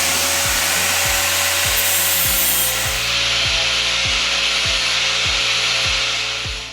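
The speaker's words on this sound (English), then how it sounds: "carefully grind the head of the rivet off" A power grinder cuts the head off a rivet on a Front Runner Expander chair, a loud continuous high whine with a regular rhythmic pulse of low thumps underneath, its pitch dropping partway through.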